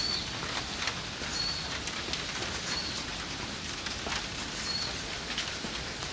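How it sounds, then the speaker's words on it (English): Steady rain falling at Fushimi Inari Shrine in Japan, a continuous hiss of drops pattering on nearby surfaces with a few brief faint chirps above it and no talk. "Yeah, it's been raining today."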